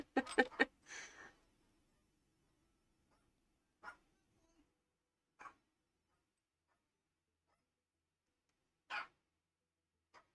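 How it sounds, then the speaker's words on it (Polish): A dog barks from behind a door, a quick burst of several muffled barks followed by a few isolated single barks spaced out in near silence. "A mi pies za ścianą, czy za ścianą, za drzwiami szczeka"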